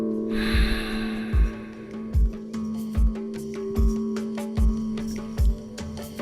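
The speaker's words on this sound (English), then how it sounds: "Feeling the body, breathing deep." Deep, forceful breaths through the nostrils come in a regular rhythm, seven or so sharp sniffing pulses roughly every 0.8 seconds, close and loud over a soft, steady musical drone.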